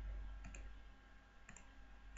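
A couple of soft, quick key clicks from a computer keyboard as the Ctrl+K shortcut is pressed while working in CorelDraw, faint and isolated over a quiet room hum.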